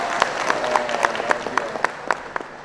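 Audience applause at an Indonesian public gathering with officials present, a steady patter of many hands clapping with sharp individual claps standing out, fairly close and continuous throughout.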